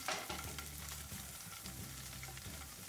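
Paneer cubes sizzle and fry in a pan, a steady close crackling hiss with a faint stirring scrape beneath, continuous and fairly quiet, no talking.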